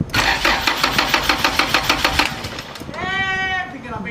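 The engine of a Honda EK car cranks over in a rapid, rhythmic series of loud starter pulses, then falls quiet as a tonal voice-like sound follows.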